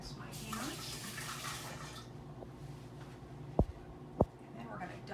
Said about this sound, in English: Let me rinse my hands.